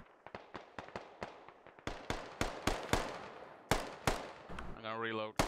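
Sharp gunshots in a tactical military shooter game, a friendly gunner laying down suppressive fire on buildings: irregular bursts of close, loud cracks with short gaps, ending in a brief tonal mechanical sound.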